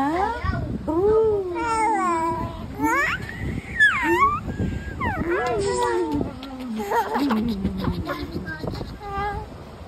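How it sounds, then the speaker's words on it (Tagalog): A cat meows repeatedly in a home, rising and falling cries close by, mixed with people talking and a voice. "Ang pusa."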